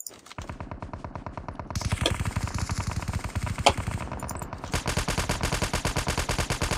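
Rapid automatic gunfire from the video game Call of Duty rattles in dense, fast bursts with a few louder single shots mixed in, close and continuous.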